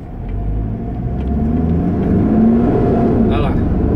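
A car pulls away from a stop and accelerates, its engine rumble rising steadily and staying loud and close, with a brief higher whine near the end.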